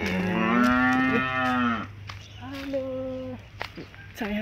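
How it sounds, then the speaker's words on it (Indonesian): A cow moos loudly nearby, a long low call followed by a shorter second moo, with faint rustling between. "saya dipanggil sama sapi"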